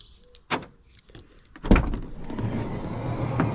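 A Ford Transit Custom van door opens with a click and a sharp latch clunk, then a heavy metallic thud as it slides or swings, followed by a steady low rumble of ambient noise.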